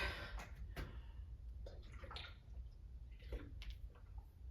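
Water running or pouring faintly in a quiet indoor room, a low continuous trickle broken by a few soft splashes and drips, with no voices.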